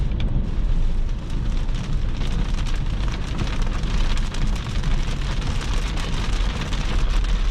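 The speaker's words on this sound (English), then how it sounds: "now in brutal rainstorm, and the car handles the rain really well" Heavy rainstorm pounding on a 2022 Mercedes C-Class AMG while driving: a loud, dense, unbroken drumming of rain on the car, steady throughout with no voices.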